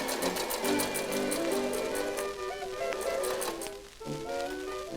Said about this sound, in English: then it's time to start sewing